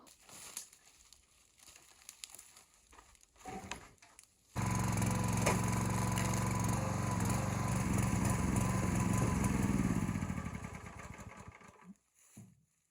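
Gas engine of a wood splitter runs loud and steady for several seconds after a quieter stretch, then sputters and dies as it runs out of fuel, leaving near silence.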